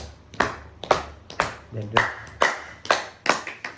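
Hands clapping against bare feet during a yoga foot massage, about eight sharp slaps in a steady rhythm, close and fairly loud, with a brief spoken word in the middle.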